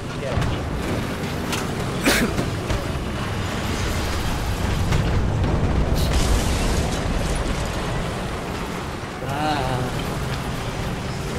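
Tank cannon fire and explosions from War Thunder, heavy booming blasts and rumbling engine noise running through the clip, with people talking over the game action.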